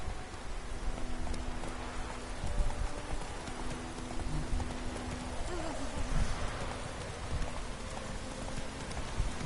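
Roach the horse galloping in The Witcher 3, a steady rhythmic clip-clop of hooves over a rainy backdrop, continuous and fairly close throughout, with no talk.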